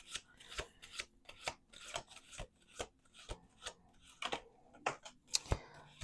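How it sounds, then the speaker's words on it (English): Tarot cards riffled and shuffled in quick bursts, a crisp papery rasp repeating about every half second, close and quiet with no talking. "Last shuffle."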